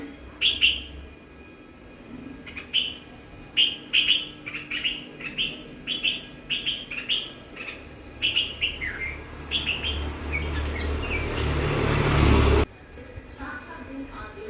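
A bird calls repeatedly in short, bright chirps at an irregular rhythm, fairly close, while a low rumbling engine builds in the background and then cuts off.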